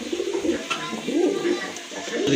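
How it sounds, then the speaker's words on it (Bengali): Pigeons coo in soft, rolling, close calls at a busy pigeon market, with people talking nearby. "দেখেন কবুতরটা খুবই সুন্দর চমৎকার কোয়ালিটি ফুল এক জোড়া কবুতর নিতে পারেন"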